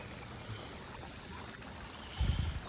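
A wet weather creek flowing after heavy rain, a soft, steady trickling wash heard alone, with a brief low rumble near the end.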